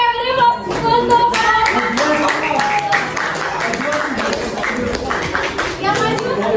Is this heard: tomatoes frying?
no